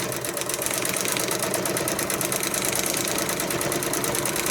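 A sewing machine stitches a paper-pieced ornament with small stitches, running as a fast, steady mechanical chatter that carries without a break from start to finish.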